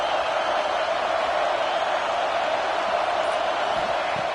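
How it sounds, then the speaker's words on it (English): Video-game football stadium crowd roaring in a steady, dense wash of noise that holds level throughout, loud and distant-sounding with no distinct cheers or voices standing out. "Listen to the crowd energy here in the early going."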